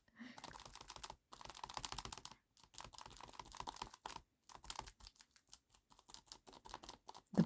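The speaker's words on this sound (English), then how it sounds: "The bottom bit has already been glued, hence why it's sounding a bit tacky" Sponge dabbing tacky decopatch glue onto a paper envelope, a quick run of soft, sticky pats close by, each dab short, with brief pauses between bursts.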